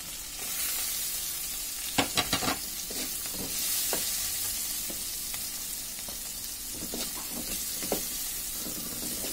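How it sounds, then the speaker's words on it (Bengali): Chopped garlic and onion sizzle in hot oil in a kadai, a steady close frying hiss with a quick cluster of stirring scrapes early on and a few more scattered clacks later. "এখন আমি এর মধ্যে রসুন কুচি আর পেঁয়াজ কুচিগুলো দিয়ে দিব।"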